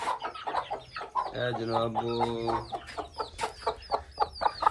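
Desi hens and chicks cluck and cheep close by in a steady run of calls, with someone speaking briefly over them.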